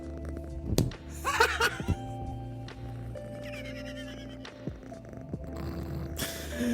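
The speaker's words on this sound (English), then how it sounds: "That cat purring ASMR again one more time." A cat's low purr rumbles steadily and close through the clip, broken by a few sharp slaps and clattering handling noises, with faint background sounds and no clear talk.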